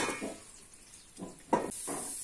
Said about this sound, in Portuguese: Deixa ela fritar também. Até ficar bem fritinho, ao seu gosto, né?